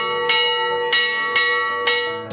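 A single church bell hung without a tower at a small, simple sanctuary rings four times at an even pace. Each loud metallic strike leaves a long shimmering hum that carries into the next.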